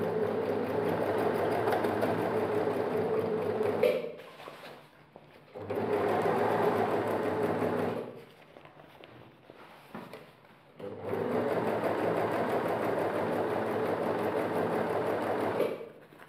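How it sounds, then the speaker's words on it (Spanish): An overlock serger runs in three rapid, steady bursts while overcasting a seam on denim jeans, each a close mechanical whirring chatter separated by short pauses with light handling noise. "Lo remallamos con la remalladora, lo sobrehilamos."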